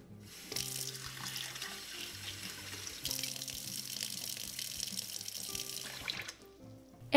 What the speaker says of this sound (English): Rinse the dry shrimp.